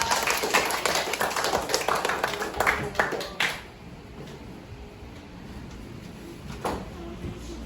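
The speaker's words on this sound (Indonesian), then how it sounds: "kita kasih tepuk tangan untuk kelompok Mawar" A classroom of students applauds a group's presentation, with loud, dense clapping for about three seconds before it stops abruptly and gives way to quiet room tone.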